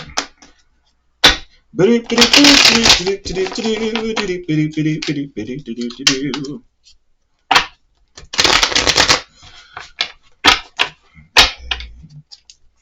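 Tarot cards shuffled in two close riffling bursts of papery fluttering, with soft taps and card handling between them and a voice talking in the middle.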